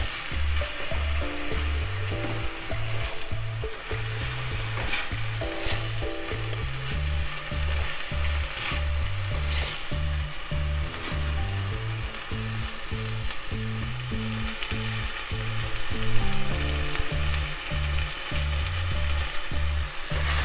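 Onions sweating gently in a pan, a steady soft sizzle running continuously with no talking, accompanied by a repeating low rhythmic pattern that sounds like background music.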